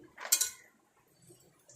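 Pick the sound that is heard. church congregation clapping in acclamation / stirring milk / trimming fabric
stirring milk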